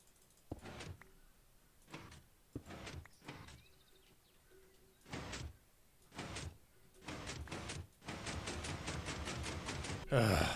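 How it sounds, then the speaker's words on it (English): A redstone-powered piston door in Minecraft works through a series of sharp mechanical whooshing clunks, about a dozen quick bursts at irregular intervals, then a faster cluster near the end, quiet and alone. "Here's the door in action."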